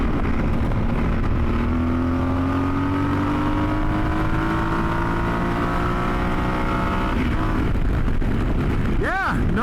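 Yamaha Super Tenere 1200 adventure motorcycle accelerating hard, its engine note climbing steadily in pitch over a constant rush of wind, close and loud throughout.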